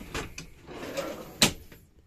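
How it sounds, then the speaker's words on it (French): A cutlery drawer in an Autostar motorhome slides and shuts, giving a few soft knocks and a sharper clack near the end, close and fairly quiet, with no talk. "le tiroir à couvert"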